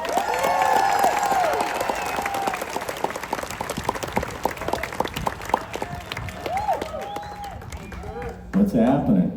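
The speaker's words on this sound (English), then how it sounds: "Please give a huge round of applause for our next speaker" Crowd applause and cheering at a celebration of life, a dense, steady wash of clapping running the whole stretch with a few whoops and shouted voices breaking through, growing louder near the end.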